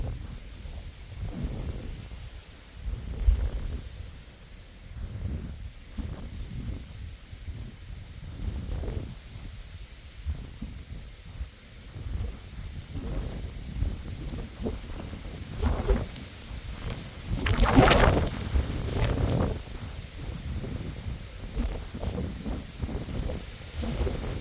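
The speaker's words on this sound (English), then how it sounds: "Here's the sound of the wind in the maize, or corn, or sweet corn, or whatever you want to call it." Wind sweeps through a maize field on a summer day, a steady low rushing with rustling gusts that rise and fall, swelling most strongly near the end, with no talking.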